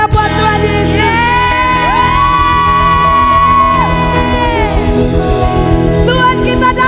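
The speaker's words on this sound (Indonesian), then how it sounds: "Tepuk tangan yang paling meriah buat Tuhan Yesus." Church congregation at a praise-and-worship service, with loud crowd cheering, whoops and shouting sustained over continuous music and singing throughout.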